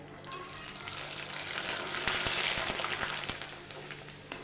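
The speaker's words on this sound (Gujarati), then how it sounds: "આપણે એવી રીતે બીજું પાપડ પણ તળી લઈશું" Sabudana (sago) papad frying in hot oil gives a soft, steady sizzle and light bubbling hiss, close by and moderately quiet, swelling briefly midway.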